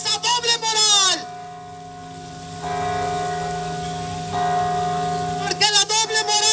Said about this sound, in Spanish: ahorita que están las campanas